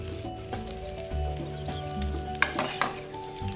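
Spicy yellow fried rice sizzles in a pan while a spatula stirs and scrapes it, with a steady frying hiss and a few sharp metallic scrapes and knocks close by.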